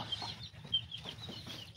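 Quiet, low clucking from a few chickens, soft and scattered, with faint rustling around them.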